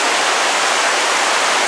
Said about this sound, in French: Encore un coin bien chouette là avec l'espèce de cascade, c'est vraiment chouette.